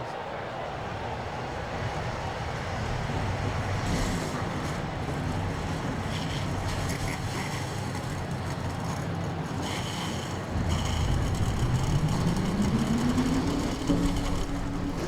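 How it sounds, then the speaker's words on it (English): Stock car engines starting up at Talladega in the NASCAR Racing 2003 video game, a dense, continuous rumble of many engines with a rising rev toward the end, under a commentator's voice. ".42 engines come to life here in Talladega, Alabama"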